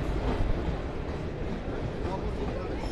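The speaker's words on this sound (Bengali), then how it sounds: "2 নম্বর প্ল্যাটফর্মে ট্রেন ঢুকছে।" A train pulls into platform 2 at New Farakka Junction station, giving a loud, steady rumble of wheels and rail noise up close, with a busy platform background.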